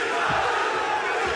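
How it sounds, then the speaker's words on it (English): Cheering crowd at a kickboxing event in Rotterdam, a dense, steady roar of many voices with a few louder shouts rising out of it, filling the whole moment with no gaps. "There's no doubt who this crowd here in Rotterdam is cheering for."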